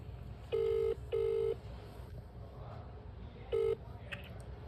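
A phone dials a friend: three short, steady touch-tone beeps, two close together and one after a pause, sound loud and clear over quiet room background.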